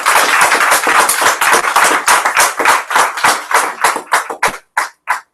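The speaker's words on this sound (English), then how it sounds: "And give a round of applause for Karina right now." Applause from an audience at a Libertarian congressional campaign event in Florida, loud and dense at first, then thinning into scattered individual claps that fade out over about five seconds.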